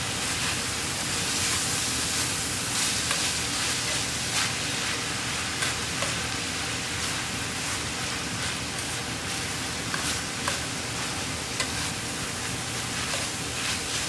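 Shredded cabbage sautéing on high heat in a pan, a steady, dense sizzle lasting throughout, with faint stirring clicks now and then and no voices.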